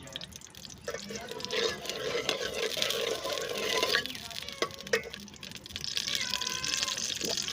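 Water trickles and drips into a glass in a home kitchen, with irregular splashes and gurgles over several seconds, fairly close, with some background activity.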